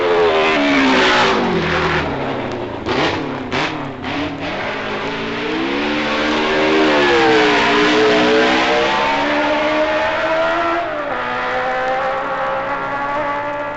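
A racing machine screams flat out on a record lap of the Isle of Man TT course in the 1950s-era senior race, its engine note sweeping up and down through gear changes, loud and close, continuous throughout.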